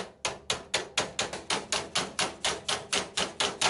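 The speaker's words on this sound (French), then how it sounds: "Un petit coup de marteau, peut-être." A hammer taps chrome trim onto a front car body panel in the workshop, giving a close, steady run of about fifteen sharp metallic knocks at an even, quick rhythm with no talking.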